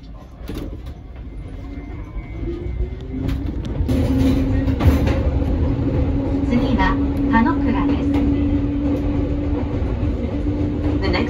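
A Fujikyu Line train in Japan rumbles along its tracks with a steady low roar and a faint whine, while people talk quietly in the background.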